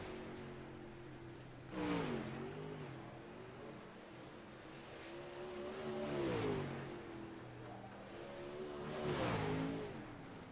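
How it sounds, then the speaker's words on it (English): A dirt race car circles the track alone during Outlaw Dirt Series qualifying, its engine rising to three loud passes spaced a few seconds apart, each swelling and fading with a falling pitch as it goes by. "Only car on the track is Curtis right now, trying to get his time in."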